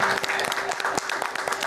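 Congregation applauding during a Catholic Mass in a church, a dense crackle of many hands clapping steadily and moderately loud across the short stretch, with no speech over it.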